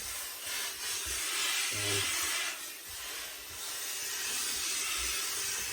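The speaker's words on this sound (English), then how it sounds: "So I'm going to just introduce some steam just very quickly before I put the twine on around the brim." Steam from a steamer hisses steadily onto the brim of a felt Borsalino fedora during restoration, a close, broadband hiss that runs continuously through the clip with slight swells.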